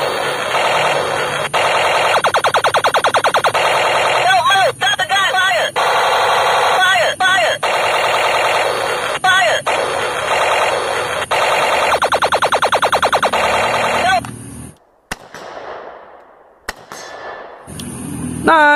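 A toy AK-47 gun blares electronic rapid-fire machine-gun effects, loud, continuous and buzzy for most of the span, then stops abruptly and a short burst restarts near the end.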